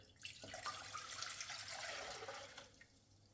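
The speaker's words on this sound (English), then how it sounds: "let's get the 4 cups of water in here" Water runs steadily into a pot, four cups poured for a few seconds, a bright splashing rush that tapers off toward the end.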